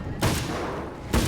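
Two loud, booming hunting rifle shots, about a second apart, in the video game Alan Wake's American Nightmare, each with a short, heavy decay.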